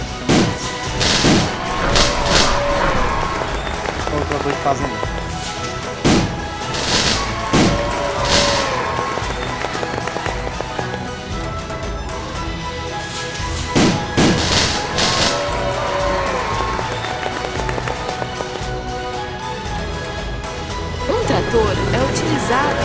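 Fireworks burst in an emergency vehicles mobile game, a series of sharp cracking pops spread across the stretch, loud and up front, with continuous narrating talk over them.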